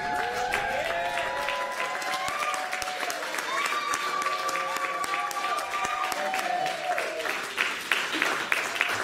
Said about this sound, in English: clap your hands and scream out nice and loud and welcome Mama Natando to the stage